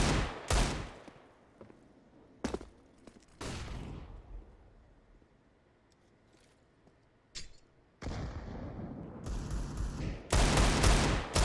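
Gunfire sprays through a wall in a CS:GO match on Vertigo, several loud, sharp bursts of shots spaced apart with quieter gaps between, ending in a denser cluster of rapid fire.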